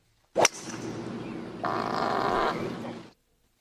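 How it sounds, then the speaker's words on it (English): A sudden loud blast, then a long, rough, sputtering fart that swells midway and trails off, with no talking. "The ass rip was louder than the drive."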